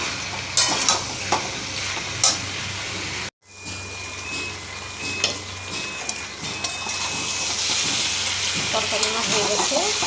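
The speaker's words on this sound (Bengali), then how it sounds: "এবার নাড়িয়ে আবার চাপা দেবো।" A vegetable curry stirred in a pan, with a continuous sizzle and intermittent scraping strokes of a spoon, a brief drop-out partway through, then a louder, steadier frying hiss toward the end, close by.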